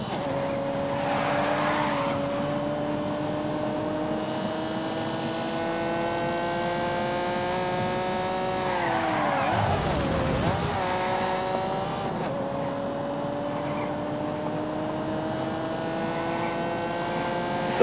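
Porsche race car in a racing video game, its engine whining loud and close, the pitch sliding down, dipping sharply with a rushing tyre noise around the middle, then climbing again, sustained throughout.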